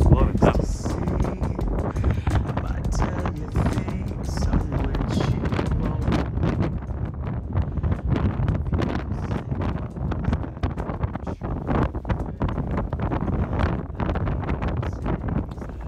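Strong wind batters the microphone outdoors on a Hebridean island, a loud continuous rumble with gusty buffeting. A person talks over it throughout.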